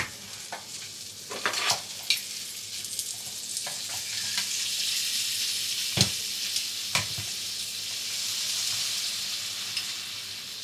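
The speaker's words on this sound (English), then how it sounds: "I'm going to waffle my pan au raisin as well" Pain aux raisins cooking in a closed waffle iron give off a continuous soft sizzle and hiss, broken by several sharp clicks and knocks from handling nearby, with no talk.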